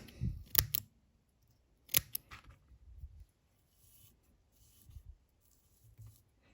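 Scissors snipping and trimming material on a leech fishing fly, a few sharp close cuts in quick pairs followed by softer faint handling sounds.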